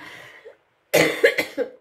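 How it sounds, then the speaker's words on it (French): A few harsh coughs in quick succession, a lingering cough after an illness, close and loud, following a brief stretch of quiet. "de temps en temps je tousse encore un peu"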